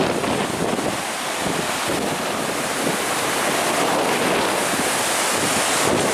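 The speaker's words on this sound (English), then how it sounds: "It is really windy through here." Strong wind in Patagonia's Torres del Paine roars continuously and loudly, buffeting the microphone in a dense, unbroken rush with no voices.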